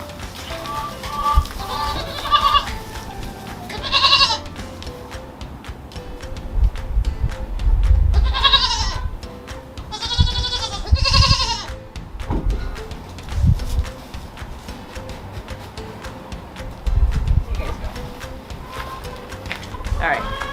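Goats at a hay feeder give several loud, wavering bleats spread through the stretch, mixed with rustling, hoof clatter and handling noise nearby.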